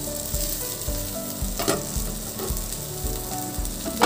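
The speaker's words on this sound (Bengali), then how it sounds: "ফুলকপি আর আলু কিন্তু ভালো করে ভাজা ভাজা হয়ে গিয়েছে" Cauliflower and potato pieces fry in a pan for a Bengali curry, giving a steady sizzle with rhythmic scraping and stirring, close and loud, with no talking.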